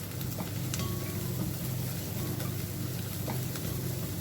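Onions frying in ghee sizzle steadily while being stirred, with soft scraping clicks recurring over a constant crackling bed; no talking.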